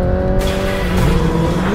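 Tires squeal sharply over a steady roaring car engine during a film car chase, continuous and loud throughout with a rising squeal midway.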